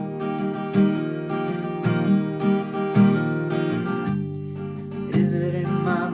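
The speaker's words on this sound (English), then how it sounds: "We're just going to add a palm mute" Acoustic guitar strummed with a palm mute near the bridge for the verse of a song, giving a choppy, percussive rhythm of muted chords, steady and close, no voices.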